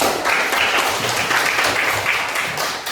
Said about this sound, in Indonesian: Jadi untuk tepuk tangan dulu.